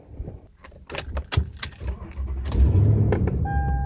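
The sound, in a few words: 2007 Toyota Tundra truck starting with keys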